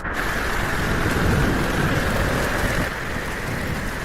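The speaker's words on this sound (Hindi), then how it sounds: "बाहर इतना तूफान चल रहा है" A Kal Baisakhi thunderstorm outside a house: dense, continuous heavy rain hiss with deep thunder rumbling beneath it, loud and close throughout, with no voices.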